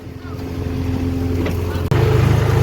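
A tractor engine labours up a slope in a farm pulling challenge, a loud, close drone that builds steadily, briefly cuts out, then returns heavier and rougher.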